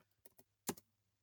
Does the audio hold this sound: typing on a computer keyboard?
yes